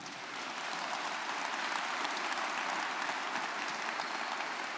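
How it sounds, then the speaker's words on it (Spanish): Steady, evenly dense clapping from a church congregation, sustained throughout at moderate volume with no voices standing out. "Dale un aplauso a Cristo, amén."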